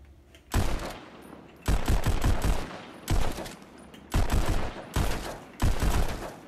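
Pistol fire from the Pistol Whip VR game on Oculus Quest comes as five or six loud, close bursts of gunshots, each lasting about a second, separated by brief quieter gaps.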